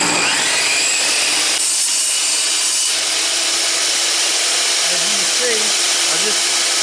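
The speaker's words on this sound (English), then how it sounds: "I'm just going to freehand it through the table saw" A table saw freehand-cutting a piece of wood in a home workshop, a loud steady whine with hissing blade noise, close up and continuous.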